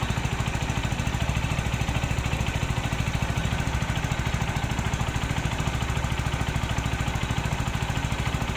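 Rouser NS160 motorcycle engine idling steadily after a timing chain and roller guide replacement, a close, even, rapid putter running continuously with no talk.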